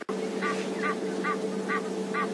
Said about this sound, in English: We can hear an Egyptian goose